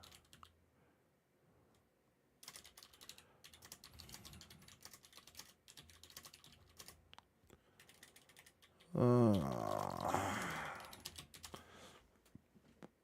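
Rapid clicking of a computer keyboard, steady and close, with a brief louder burst of clatter partway through; no talking.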